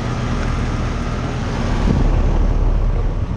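Two split-system air conditioners, a 2017 Rheem Classic 2-ton straight-cool unit and a 2019 Mitsubishi, run side by side outdoors, giving a steady broadband fan and compressor drone that rises slightly partway through.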